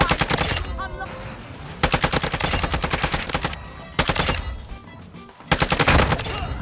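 ISO submachine gun firing in Call of Duty: Modern Warfare 2, loud rapid full-auto bursts in several sustained strings with brief gaps between them.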